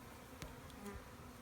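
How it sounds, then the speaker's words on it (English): Honeybees swarming over frames of an open backyard hive during a colony split, a dense, faint, continuous hum with a few brief clicks and bumps nearby. "Holy cow, look at all those bees."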